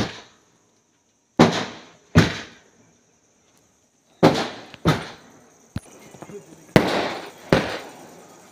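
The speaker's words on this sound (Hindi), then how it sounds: "अब लड़के लोग पटाखे बजा रहे हैं" Diwali firecrackers burst at a home celebration, a series of sharp loud bangs spaced irregularly with short decaying tails, a couple of smaller pops and crackles between them.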